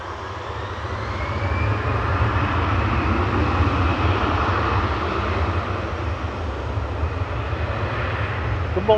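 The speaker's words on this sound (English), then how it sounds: "This one's heading over to the Greek island of Rhodes, flight 2051, A320 Classic GEZUW, 12-year-old aircraft." An Airbus A320 jet at Manchester Airport gives a loud, steady engine roar with a deep rumble underneath and a faint rising whine, holding constant throughout.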